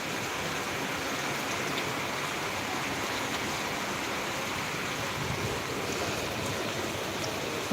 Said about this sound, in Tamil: இப்போ மழை பெஞ்சு ஒரு கரெக்டாக ஒரு பத்து நிமிஷம் பதினஞ்சு நிமிஷமாக பெஞ்சிக்கிட்டு இருக்கு